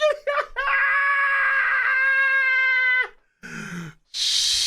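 A very fat cat lets out a long, loud, drawn-out wailing meow after a few short chirps, followed by brief muffled noises and a burst of hiss.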